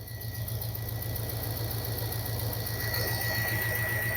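A 1981 Corvette idles with an exhaust leak, a thin steady whistle riding over the low pulsing engine rumble, continuous and fairly close throughout.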